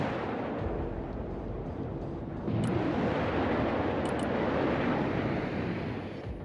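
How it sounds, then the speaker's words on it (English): Incoming missiles explode in the video game Broken Arrow, a heavy, continuous rumbling roar that swells louder midway and holds steady before easing, with a few faint high blips over it and no talk. "Missiles coming our way!"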